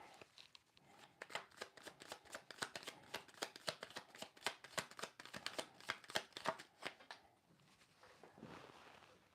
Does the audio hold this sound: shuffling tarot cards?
yes